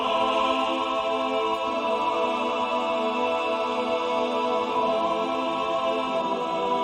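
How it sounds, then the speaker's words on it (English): Sustained choir pad from the Nucleus orchestral library, with layered voices holding steady chords at an even, full level for several seconds and no talking. "Let's try to add some sustained choirs."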